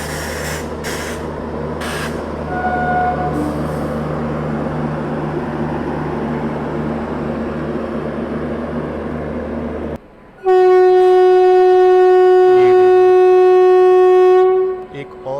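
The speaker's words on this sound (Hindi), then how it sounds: "एक और ट्रेन जो है वो WP5 के साथ आ रही है।" A passenger train hauled by a WP5 locomotive arrives and passes at an Indian station, with low rumbling wheels and carriages, then a loud, sustained horn blast up close near the end.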